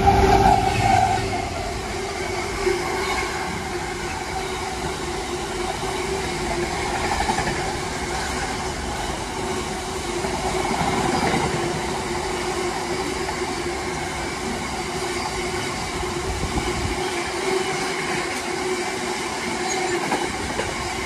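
A freight train bound for Southampton rolls through a station on the Chiltern main line, a long steady rumble of wagons with rhythmic wheel clatter and faint squeals, continuous and fairly close.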